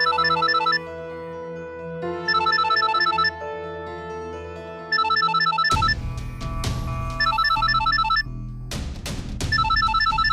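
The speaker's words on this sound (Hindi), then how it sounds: "इसका फोन है।" A phone ringtone in a Hindi TV drama episode plays a repeating electronic melody in loud bursts, and a musical score with a beat joins partway through.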